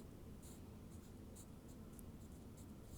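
Pen scratching across paper as math notes are written out by hand, a steady run of soft strokes with brief lifts, close and alone with no talking.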